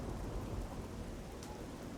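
Steady rain with a thunderstorm in the video game Oblivion, a dense, constant wash of downpour with a deep low rumble underneath and no voices.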